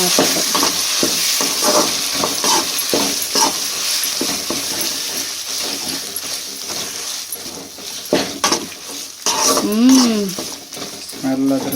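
Tamarind pickle mixture stirred and sizzling in hot oil, a steady dense frying hiss with repeated scraping stirs of a spoon against the pan, close and fairly loud throughout, with a brief clatter near the end.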